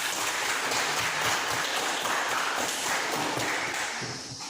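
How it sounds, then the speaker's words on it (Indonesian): Applause from a classroom group during an Indonesian school guidance lesson, a steady wash of many hands clapping together at moderate level, holding evenly before easing off at the end, with no talk over it. "Oke, tepuk tangan untuk kita semua."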